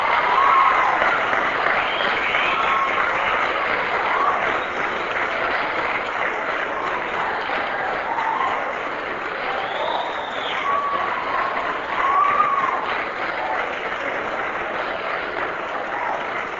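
A large audience at the Harvard Law Forum in 1984 breaks into sustained applause, dense and steady throughout, with occasional cheers rising above the clapping.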